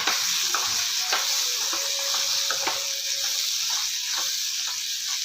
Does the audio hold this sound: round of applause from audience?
no